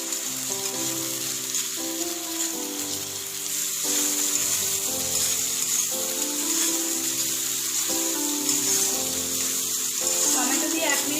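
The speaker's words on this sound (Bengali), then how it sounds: "এবার এর মধ্যে দিয়ে দেবো টমেটো কুচি। টমেটোটাকেও 1 মিনিট ভেজে নেব।" Chopped tomatoes frying with onion, ginger and garlic in a pan, a continuous hissing sizzle heard close, with a faint tonal hum running underneath.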